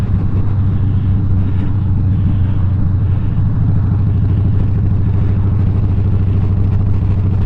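A motorcycle engine fitted with a Monster Sucker intake runs at a steady idle, a loud, close, continuous throb with a fast even pulse and faint mechanical clatter, no voices.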